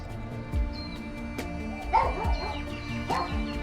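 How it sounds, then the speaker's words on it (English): A small chihuahua yaps in short, sharp barks and whimpers, several bursts spread across a few seconds, close by over light wind in an outdoor yard. "Shout out to this little chihuahua that has not stopped barking the"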